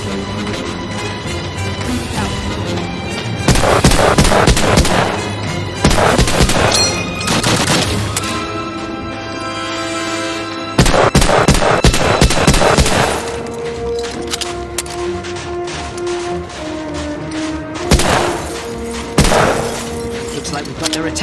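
Gunfire in the Medal of Honor Allied Assault North Africa level as spotlights are shot out: loud, close bursts of rapid shots in several volleys, with sharp cracks and shattering, under a continuous background music bed.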